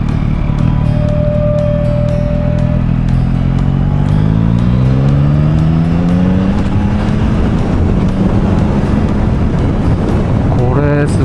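A Yamaha three-cylinder motorcycle, an XSR900 or MT-09, accelerating hard on a test ride, its loud engine note climbing steadily in pitch through the gear, close and continuous.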